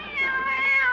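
A cat meows close and clear, a drawn-out plaintive cry held for about a second.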